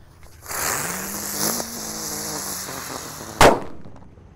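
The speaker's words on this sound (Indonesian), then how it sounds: "di sini ada mercon Tratetor ya, Happy Flower" A Happy Flower Tratetor firecracker fizzes and whistles with a rising tone for a few seconds, then bursts in one sharp, loud crack before fading.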